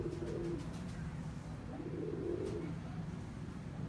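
Kamgar breed pigeons cooing in low, rolling murmurs over a steady background hum, with a few brief higher sounds mixed in; no voices.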